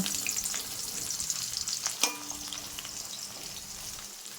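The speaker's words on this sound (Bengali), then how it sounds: "পেঁয়াজগুলো লাল লাল করে ভাজা হয়ে এসছে" Onions sizzle and crackle in hot oil with cumin and bay leaf, frying to reddish brown, with a clink of a utensil stirring the pan midway; no talking.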